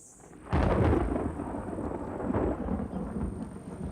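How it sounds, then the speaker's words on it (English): Thunder rumbles over rain during the rainy season in Madagascar, breaking in loudly after a short quiet and rolling on continuously with a heavy low roar to the end. "the sky often rumbles in the late afternoon and it turns threatening"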